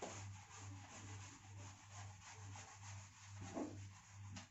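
A cloth or duster rubs geometry notes off a board in steady back-and-forth strokes, soft and close, with a low hum in the background.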